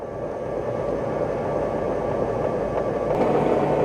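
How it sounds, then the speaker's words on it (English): A steady mechanical whir with a low rumble from a Roborock Q Revo robot vacuum base spinning its mop pads, holding an even level and rising slightly near the end as the speed ramps up. "So you'll hear that spinning the mop pads"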